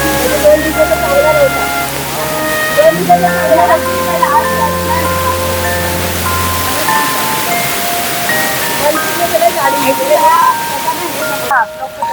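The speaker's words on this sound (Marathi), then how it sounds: "हा बघा तो धबधबा मंदिराला लागूनच आहे" Rushing water from a waterfall beside the Chandika Devi temple at Dabhol in Konkan, India, pours steadily throughout, with people talking and other voices mixed in over the continuous roar.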